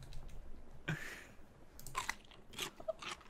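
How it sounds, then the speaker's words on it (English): Munching on fresh mackerel: a few separate crunchy bites and chewing sounds, close and fairly quiet, spaced out over a few seconds in a hushed room. "Oh, I love munching on these fresh mackerel."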